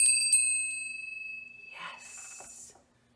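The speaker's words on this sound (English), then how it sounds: "this time we have our Easter bell, our Easter bunny bell" A handheld Easter bunny bell rings several bright, sharp dings that trail off into a long shimmering ring. A voice follows briefly with soft rustling at the end.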